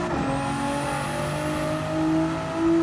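Race car engine in a sim racing game holding a steady high whine, then rising in pitch as the throttle reopens out of a corner, loud and continuous with no talk.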